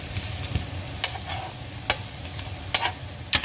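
Plant-based vegan bacon sizzles steadily in a pan, a close, constant crackle broken by a few brighter pops and light scraping as it keeps cooking.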